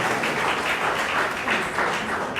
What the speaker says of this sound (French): Applaudissez pour M. Sieli Péa, bienvenue